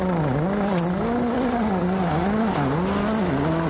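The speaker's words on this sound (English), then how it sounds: "You just hear the car working on the throttle." A rally car engine on a WRC 2011 Rally Jordan power stage revs hard on and off the throttle, its pitch rising and falling in quick waves, loud and close with no talk.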